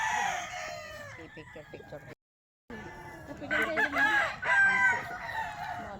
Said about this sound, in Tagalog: Mga manok ni San Pedro.